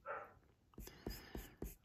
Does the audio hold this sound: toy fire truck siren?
no